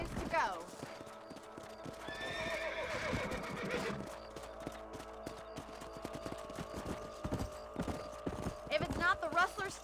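Horse hooves clip-clop steadily in the Red Dead Redemption video game on PS5 as a horse whinnies loudly near the start and again at the end, with a few sharp bangs amid the ride.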